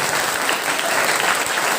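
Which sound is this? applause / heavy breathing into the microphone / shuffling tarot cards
applause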